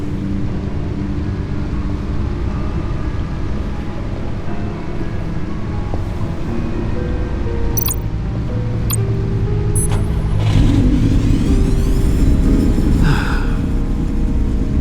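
A powerful engine of over 600 horsepower in Batman: The Enemy Within idles with a deep, continuous rumble before revving up louder toward the end, with faint high tones and no talk.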